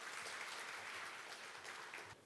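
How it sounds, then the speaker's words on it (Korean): Audience applause welcoming the jury chairman at the 17th Hansarang rural culture award ceremony, a steady dense wash of clapping that holds evenly for about two seconds and then thins out at the end. "여러분 박수로 환영해 주십시오."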